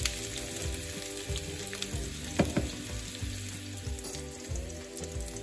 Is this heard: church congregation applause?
no